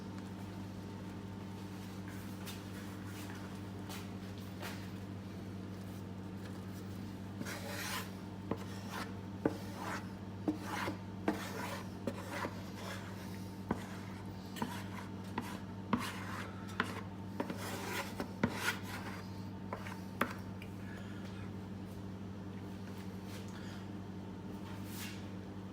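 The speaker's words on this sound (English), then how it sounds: "what you want to do is you want to just go ahead and keep stirring it" A spoon rasps and scrapes steadily through a bubbling whiskey sauce for beef back ribs, with soft repeated strokes and faint clicks over a constant low hum.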